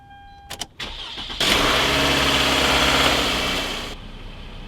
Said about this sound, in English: Let's go crank the engine and see if we can get it started.